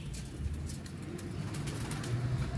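Ferozpuri pigeon of Indian bloodline giving low, soft cooing calls close by, a steady murmur of repeated coos running throughout with no speech.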